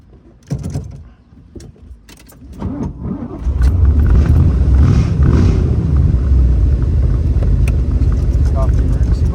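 A 1972 Corvette starts up after some clicks and handling noises, its engine settling into a loud, steady rumble that carries on close by.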